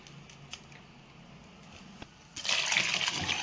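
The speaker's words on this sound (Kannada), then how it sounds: "ನೀರು ಹಾಕ್ಕೊಳ್ತಾ ಇದ್ದೀನಿ ನೋಡಿ." Quiet clinks and small sounds, then water gushes and splashes steadily into a pot, louder in the final second.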